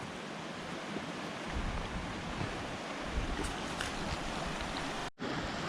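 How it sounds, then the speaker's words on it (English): A babbling brook in the Colorado mountains near Gold Hill, a steady broadband rush of flowing water, close and continuous with no voices, cut by a brief dropout near the end. "There's the proverbial babbling brook."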